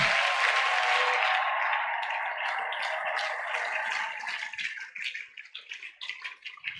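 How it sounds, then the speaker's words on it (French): A church congregation bursts into sustained applause praising the Lord for a miracle, loud and dense at first, then thinning into scattered claps and fading toward the end. "Acclamons le Seigneur pour le miracle."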